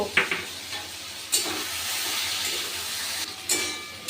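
Water lily stems with slit green chillies stirred in a pan over a soft, steady sizzle, with a few sharper scrapes of the spoon at intervals.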